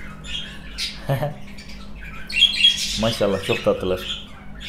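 Pet budgerigars squawk and chirp in sharp bursts close to the recording, mixed with someone speaking briefly over them.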